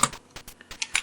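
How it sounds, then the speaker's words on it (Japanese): Brief bursts of clicking keystrokes come from a homemade Let's Split-style split keyboard, four rows by six columns per half, fitted with Gateron brown switches and DSA keycaps. About seven close, crisp taps fall in an uneven rhythm with no voices. "キーは、ゲーテロンの茶軸が付けてあって、それに、DSA のキーキャップが付いています。"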